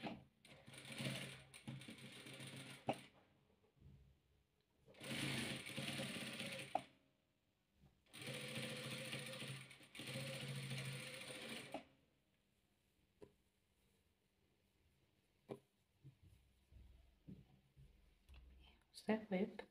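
A sewing machine stitches patchwork quilt pieces in three loud, steady bursts of a few seconds each, separated by pauses filled with quieter handling clicks and rustles.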